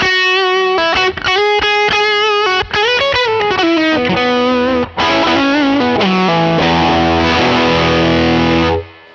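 Electric guitar lead through a Universal Audio amp sim pedal with the boost cranked, playing loud, distorted, sustained notes and bends in quick phrases that ring out to a stop, with no voices.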